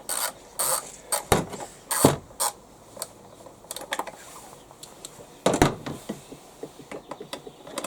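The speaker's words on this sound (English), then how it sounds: "So I'll just take an 8mm socket, loosen the two bolts off" An 8mm socket wrench loosening the carburettor bolts on an HY3200SEI: close, intermittent ratcheting clicks and metallic knocks in short bursts with quiet pauses, and no talking.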